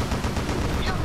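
Rapid gunfire from aircraft guns in the Wii game Blazing Angels, a dense continuous burst of shots aimed at enemy planes, loud and steady throughout with game sound layered underneath.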